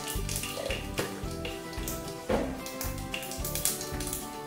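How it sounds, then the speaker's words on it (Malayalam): Mustard seeds splutter and pop in hot coconut oil in a kadai, giving scattered crackles and snaps over a steady sizzle, alongside a repeating low mechanical hum. "അതിലേക്ക് നമുക്ക് കടുക് ഇട്ട് പൊട്ടിക്കാം"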